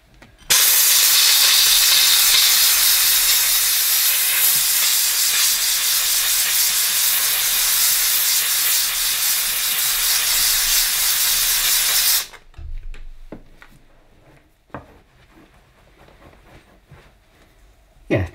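A Dupray Neat steam cleaner blasts steam over hob pan supports in a loud, continuous hiss for about twelve seconds, then cuts off, leaving quieter intermittent clatter and handling noises.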